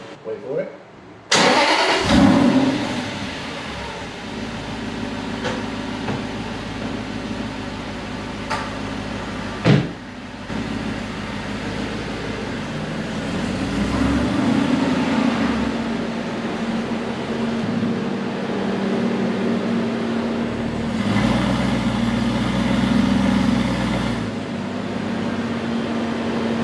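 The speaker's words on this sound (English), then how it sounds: "So let's get a nice start up on this bad boy with that fuse pulled." A V8 Aston Martin engine, started with a fuse pulled, cranks and fires up with a sharp burst, then settles into a deep, rumbling idle with a couple of swells, voices occasionally heard over it.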